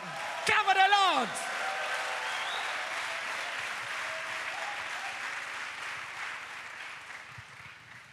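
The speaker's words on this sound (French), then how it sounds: "Applaudissons pour le Seigneur." Applause fills a large evangelism gathering in Abidjan as a crowd claps steadily for several seconds, opening under a brief shouted voice and then gradually fading.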